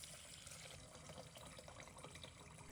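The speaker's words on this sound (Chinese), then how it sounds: "倒入清水" Soft, steady rush of clean water poured onto three cups of raw rice in a basin, faint and continuous without any voices.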